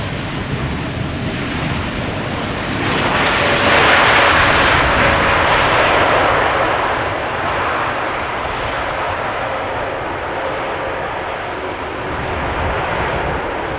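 Airliner landing at Amsterdam Schiphol, a steady loud jet roar with a broad wind-like rush that swells in the middle and stays fairly constant, with little thrust reverser surge.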